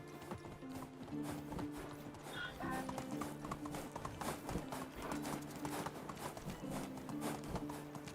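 Hooves of a horse in the video game Medieval Dynasty clip-clop in a brisk, steady trotting rhythm, close and continuous, with occasional faint game ambience and a brief voice.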